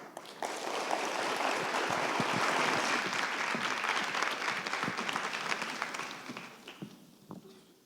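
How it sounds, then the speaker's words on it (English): Audience applause at a TEDx event at a university in Johannesburg, a sustained full burst of clapping that swells and then tapers off near the end. "Another round of applause, please, for Tshepo Khobe."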